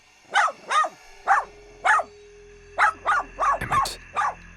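A dog barks without pause at a wilderness campsite, about nine loud, close, sharp barks in an uneven rhythm over a faint low hum, with no voices.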